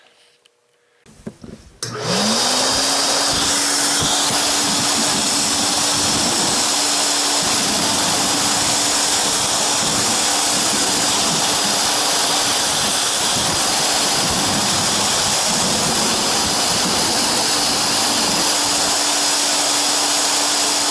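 A Hoover Constellation model 84 vacuum cleaner switches on and runs loudly and steadily, its motor spinning up to a constant high whine under a broad rushing airflow that continues unbroken.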